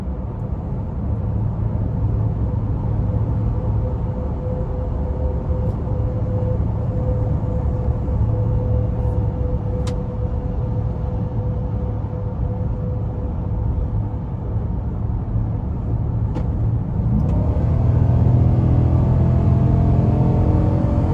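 A 2021 Nissan Titan Pro 4X pickup with a 5.6-litre V8 and nine-speed automatic pulls steadily under throttle, a continuous low engine drone that swells and deepens toward the end as it accelerates.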